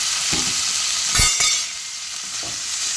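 Vegetables frying in a pan for chira polao (flattened rice pulao), a fairly loud hissing sizzle with a couple of sharp scraping clinks near the middle, no voices.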